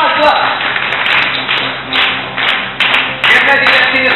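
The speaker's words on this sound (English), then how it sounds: "Come on, clap." Several hands clap in uneven bursts at a child's first birthday party, the sharp claps quite close and loud, with people talking over them.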